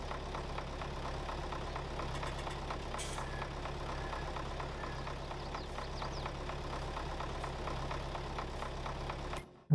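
An MTZ tractor engine from Farming Simulator 22 idles steadily in a low, continuous rumble, unbroken and fairly quiet, with no talking over it.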